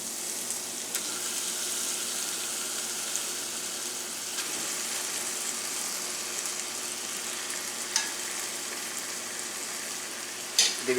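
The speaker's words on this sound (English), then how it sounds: "Throw them pork chops back in that." Pork chops fry in a pan of gravy, giving a steady, close sizzle and bubble that runs throughout with no talking, broken only by a few brief clinks of a utensil against the pan.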